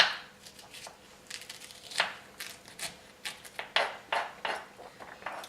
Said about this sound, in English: we'll just use a spoon and scoop out those seeds and set them aside